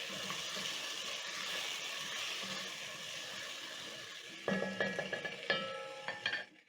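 Fresh diced tomatoes being stirred into a pot of rice and beans: soft wet squelching and a light sizzle continue throughout, and several sharper spoon scrapes and clinks against the pot come near the end.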